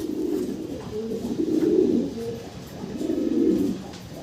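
Fancy pigeons cooing up close, two swelling bouts of soft, low, rolling coos with a brief pause between them, no voices present.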